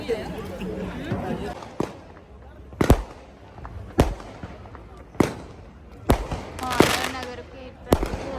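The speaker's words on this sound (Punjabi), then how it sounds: "ਹੁਣ ਚਲਾ ਰਹੇ ਨੇ ਪਟਾਕੇ" Firecrackers go off in a series of sharp, loud bangs spaced a second or so apart, over the murmur of a crowd and nearby voices at the close of a Sikh Nagar Kirtan procession at a gurdwara.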